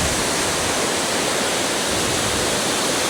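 Rushing water at the Lata Kinjang waterfall, a dense, steady, loud roar filling the whole clip without any talk.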